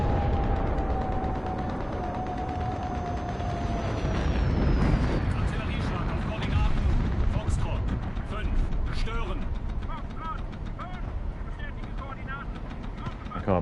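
Airstrike explosions in the War Thunder tank game, a heavy continuous low rumble and roar that swells around the middle, with scattered sharp cracks and a falling whine overhead.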